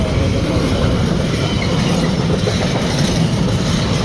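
Container-laden freight train thunders through Noose Lane level crossing, loud and near, with a constant low rumble, rhythmic clickety-clack of wagons and a hint of wheel squeal, no voices.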